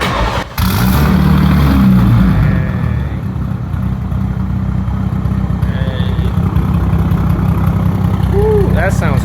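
A built 1000-horsepower rear-wheel-drive BMW 340i engine runs loud and close, a rough choppy idle with revving surges, while people talk over it.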